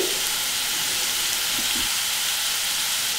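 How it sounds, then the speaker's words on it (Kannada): Potatoes frying on a non-stick or iron tawa, a steady, loud, close sizzle that hisses continuously throughout, with a couple of faint stirring knocks. "ಈ ಆಲೂಗಡ್ಡೆ ಫ್ರೈನ ಆದಷ್ಟು ನಾನ್ ಸ್ಟಿಕ್ ತವಾದಲ್ಲಿ ಅಥವಾ ಕಬ್ಬಿಣದ ತವಾದಲ್ಲಿ ಫ್ರೈ ಮಾಡ್ಕೊಳ್ಳಿ"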